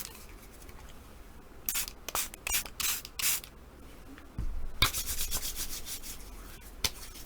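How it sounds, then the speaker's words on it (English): Hydrogen peroxide spritzed onto freshly washed hands from a spray bottle, a series of close, short hissing bursts in irregular clusters with rubbing between them, no speech. "I'm spraying it with hydrogen peroxide right now."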